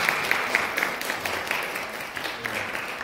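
Applause from a church congregation welcoming a new student, a steady wash of clapping sustained for the whole stretch at moderate level, with no talk over it.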